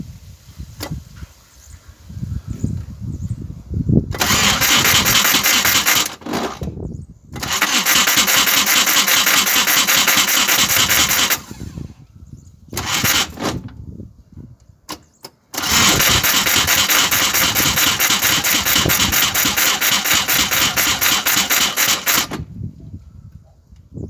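A Volkswagen Golf MK1 engine is cranked over by the starter in several long bursts, each a loud, rapid churning lasting a few seconds, with short quiet gaps between them.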